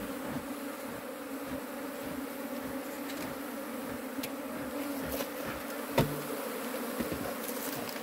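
A swarm of bees buzzing at a shed as it is being captured: a continuous, moderately loud drone of many insects with no talk, and a few faint clicks and knocks over it.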